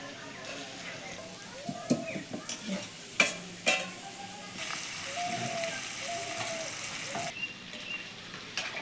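Potatoes sizzle in hot oil in a pan during Bengali home cooking, with a steady frying hiss and scattered clinks and scrapes of a stirring utensil, sometimes louder and sometimes softer.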